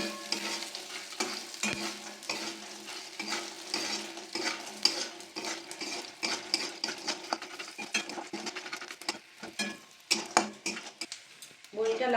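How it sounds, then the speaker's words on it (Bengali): Lentil dumplings (bori) fry in a pan of oil, a steady crackling sizzle broken by scraping stirs and light clinks of a utensil against the pan, close and continuous without talk. "বড়িটা লাল লাল করে ভেজে নেবো।"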